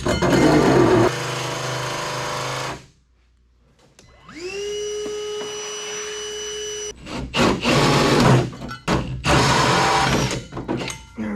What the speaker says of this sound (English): Now it's finally time to drill this hood stack hole.